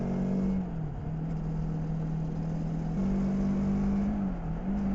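A Kawasaki Versys X 300 motorcycle rides along at a steady cruise, its engine a constant close drone that dips slightly and rises again, with wind noise over it and no talk.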